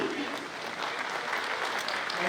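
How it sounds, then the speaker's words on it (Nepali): Loud, sustained applause fills a general assembly hall of the Kathmandu gold and silver traders' association, a dense steady clapping from a large crowd that holds at an even level throughout. "फेरि पनि जोरदार ताली"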